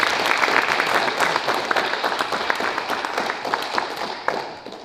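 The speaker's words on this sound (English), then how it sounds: "you truly deserve the longest and the loudest loud applause" Audience applause at a 125th anniversary celebration event: a dense, sustained burst of clapping from a crowd, loud at first and gradually thinning and softening over several seconds.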